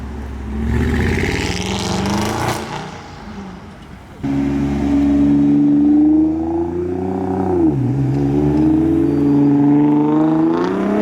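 A Nissan R32 GT-R fitted with an R34 front end drives past while leaving a car meet, its engine revving up loudly and then holding a strong, close roar as it goes by.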